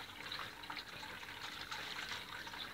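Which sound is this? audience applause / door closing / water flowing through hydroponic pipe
water flowing through hydroponic pipe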